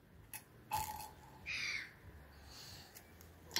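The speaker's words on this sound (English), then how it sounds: "Seagulls is squawk out there." Distant seagulls squawk in a few short, harsh calls separated by pauses, faint against quiet outdoor background noise.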